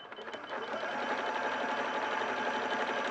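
A sewing machine runs steadily through a decorative zigzag stitch, a close, even mechanical whirr with a fast rhythmic chatter that holds at constant loudness without any voices.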